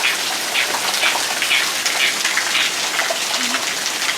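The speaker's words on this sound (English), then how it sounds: "We're finally getting a nice rain." Steady rain pours down in a dense, even hiss, with scattered drops spattering on surfaces throughout and no voices.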